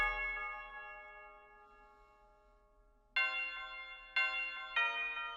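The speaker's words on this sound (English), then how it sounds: "Now I also forgot this bell, which copies the root notes of the melody." A synthesized bell from a trap-style type beat plays the melody doubled an octave apart, with one long ringing tone decaying slowly and then three bright struck notes in quick succession, alone without drums or voices.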